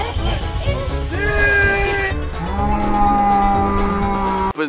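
A cow on a farm gives long, loud, drawn-out moos, one tonal call sliding into another, close by and filling the moment.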